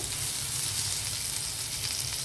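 Onions for a chicken roll filling fry in a pan with a dense, steady sizzle, close and even, with no voices.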